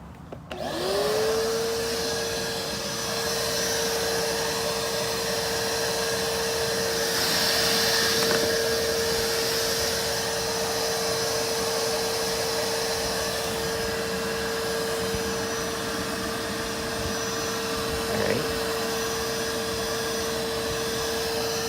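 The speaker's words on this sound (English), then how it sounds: "Turn that vacuum on for me there, Mike." A vacuum cleaner starts up outdoors near a barbecue holding honeybees, running continuously with a steady high whine and airy roar, close and loud throughout.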